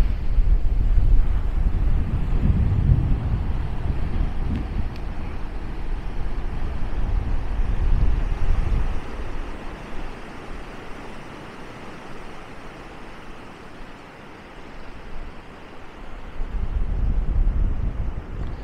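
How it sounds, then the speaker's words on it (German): Strong wind buffets an outdoor microphone at Maspalomas, Gran Canaria, producing continuous deep rumbling gusts that swell and fade across the whole stretch, loud and alone with no other clear sounds. "Ja, der Wind ist natürlich jetzt schon ein bisschen störend."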